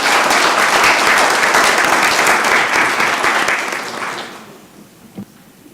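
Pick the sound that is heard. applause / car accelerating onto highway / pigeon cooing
applause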